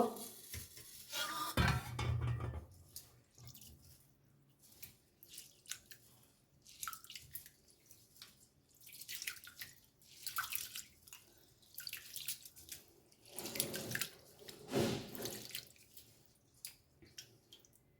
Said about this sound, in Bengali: আর একবার জল দিয়ে ধুয়ে নেব।